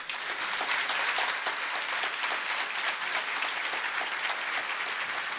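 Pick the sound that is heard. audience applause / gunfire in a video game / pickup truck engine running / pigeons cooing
audience applause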